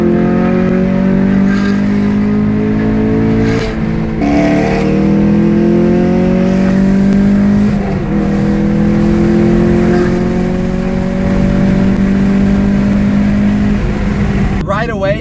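A modded Camaro fitted with headers and an E85 tune roars through a tunnel, engine note climbing through repeated loud accelerating pulls with gear changes, echoing off the walls and filling the whole stretch.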